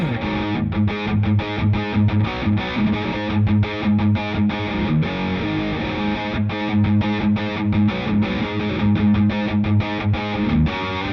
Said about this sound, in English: that's just my clean amp going through the Uzi distortion.